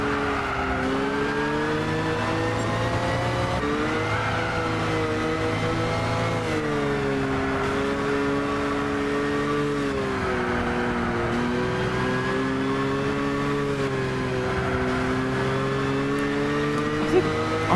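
A car engine revs steadily and loud through a long stretch of driving in the racing game Gran Turismo 6, its pitch rising and falling with the throttle, with a faint voice under the engine at times.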